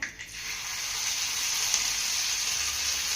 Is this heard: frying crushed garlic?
yes